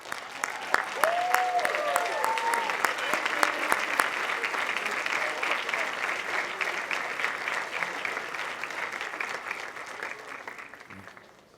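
A school graduation audience bursts into sustained applause, many hands clapping steadily and fairly close for about ten seconds before fading out, with a few voices faintly audible beneath.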